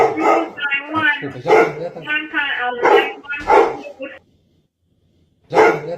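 Dogs bark and yelp indoors at home, several sharp, loud calls close by in a quick run before going quiet, then one more burst.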